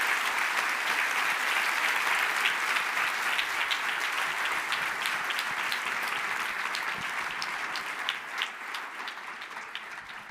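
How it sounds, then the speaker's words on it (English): A lecture-hall audience gives Demis Hassabis another round of applause at a campus talk on AI, a dense even clatter of many hands that slowly thins toward the end. "I think we can give Demis another round of applause"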